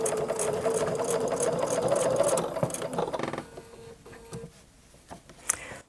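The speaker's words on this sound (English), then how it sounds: "if we can turn it and stitch in this direction, it will help the machine ramp over that" A sewing machine stitches over a thick denim seam, running steadily with a dense, fast mechanical chatter, then slowing to a lighter, uneven clatter as it works over the bulk.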